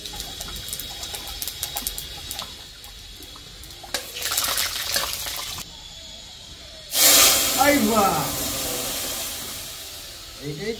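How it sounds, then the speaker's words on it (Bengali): Spices tempering lentil dal in a home kitchen hit the hot pan with a sudden loud sizzling hiss partway through. Quieter clatter and hissing come before it, and people talk nearby. "ডালে ফোড়ন দিচ্ছে।"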